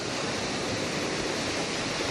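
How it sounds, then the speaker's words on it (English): A large muddy waterfall just beyond the trees near Rosslyn Chapel, heard as a steady, dense roar of falling water with no breaks. "it's a waterfall, the bigger one. That's what you can hear when you're walking down."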